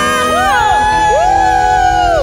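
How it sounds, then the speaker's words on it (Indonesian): A church congregation at a Sunday worship service cheers and applauds loudly, with sustained crowd noise and rising and falling shouts carrying throughout. "angkat tanganmu dan beri tepuk tangan yang meriah bagi Tuhan kita"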